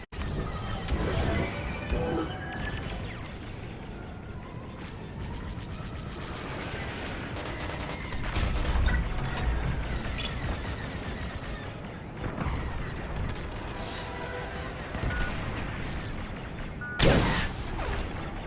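Blaster fire crackles in the Star Wars Squadrons space combat video game, repeated bursts and blasts over a dense rumbling battle din, with one sharp loud crack near the end.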